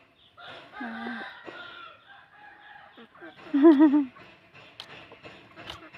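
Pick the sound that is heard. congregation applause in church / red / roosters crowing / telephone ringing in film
roosters crowing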